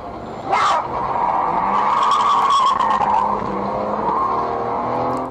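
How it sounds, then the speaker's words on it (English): Car accelerating hard and speeding away with tires squealing, a loud sustained engine and skidding roar close by, lasting several seconds without talk. "The driver then steps on the gas and drives away as fast as he can."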